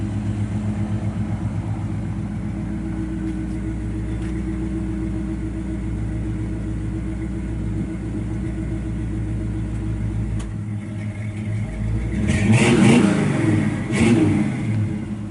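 A 1964 Chevrolet Impala SS 327 with dual exhaust and electric choke idles on a cold day, then gets two loud rising revs near the end over its steady exhaust rumble, with no talking.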